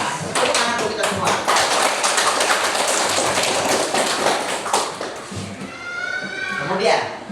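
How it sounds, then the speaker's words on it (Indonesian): A group of children clap their hands together in a religious study class, with dense, sustained applause throughout and brief voices near the end. "Tepuk tangan untuk kita semua."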